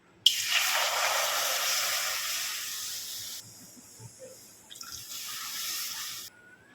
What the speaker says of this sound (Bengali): আমি সেই পরিমাণ মতো তিন কাপ জল দিয়ে দেব